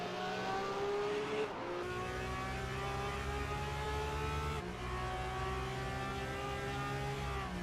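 Porsche Carrera Cup race cars on the Nürburgring GP circuit roar steadily at high revs, engine notes shifting pitch as several cars run close together, a continuous loud drone with no talk over it.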